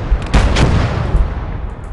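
A mortar barrage in the World War II strategy game Gates of Hell: Red Star Rising lands as loud, heavy booms in quick succession, with rumbling blasts that overlap and fade out.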